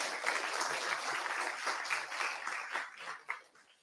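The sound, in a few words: audience applause at an event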